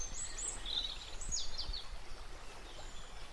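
Forest birds singing along a wooded trail, with several thin high chirps and short trills scattered over a soft, steady outdoor hiss, fairly faint and distant.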